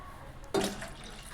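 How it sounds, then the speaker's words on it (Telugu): Milk and water pour suddenly into a pan for making paneer, a short close splashing gush that quickly fades. "పాలు వాటర్ పోసుకోవాలి"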